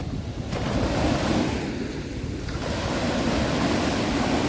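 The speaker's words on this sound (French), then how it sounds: "La mer est un petit peu agitée" Choppy sea surf along the Corsican coast, a continuous rushing wash of waves with wind buffeting the microphone, close and fairly loud.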